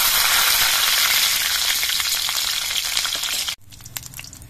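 Slit green chillies hit hot oil with mustard seeds in a pan for a Bengali flat-bean dish, giving a loud, dense, steady sizzle that cuts off abruptly near the end, leaving quieter crackles and light pan noise.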